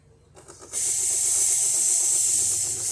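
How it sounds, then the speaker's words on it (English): A DeLonghi Magnifica coffee machine, freshly serviced, starts with brief pump knocking, then bursts into a loud, steady steam-like hiss as hot water dispenses, close by with no talking. "if you want to get like a hot water, you need to press that and get"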